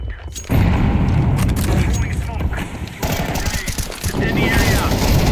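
In Counter-Strike 2, a hand grenade goes off with a sudden, loud boom that leaves a dense, rumbling roar, with a second surge partway through and someone talking over the noise.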